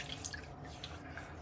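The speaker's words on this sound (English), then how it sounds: "let's water our face and get things started" Water splashing and dripping at a sink while wetting the face before a shave, a few soft close drips and splashes over a steady low background with no talking.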